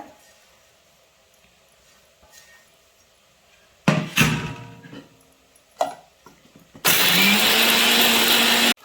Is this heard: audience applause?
no